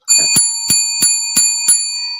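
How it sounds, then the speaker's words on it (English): Five bright, evenly spaced strikes of a bicycle bell ring out loud and close, each metallic ding left to ring between hits. "Ring that bell"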